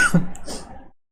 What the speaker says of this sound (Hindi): आज खांसी बहुत आ रहा है